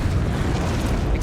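A Confringo spell explosion from the Hogwarts Legacy video game fills the clip with a loud, sustained, rumbling blast.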